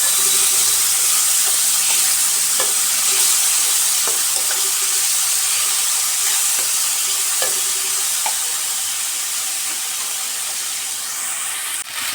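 Ground masala frying in a pan over a low gas flame as whisked sour yogurt goes in for a coriander catla fish curry: a steady, loud sizzle and hiss with faint stirring clicks throughout, no talking.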